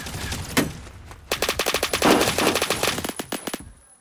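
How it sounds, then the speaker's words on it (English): Gunfire in the video game Phantom Forces: a single shot, then a long rapid automatic burst of loud, close, evenly spaced cracks with brief pauses, ending in a few more shots and fading. "Who's shooting at me?"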